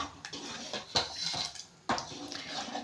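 A ladle scrapes and clanks against a pot while brinjal curry with tamarind water is stirred, giving a few sharp metallic knocks over a wet swishing background.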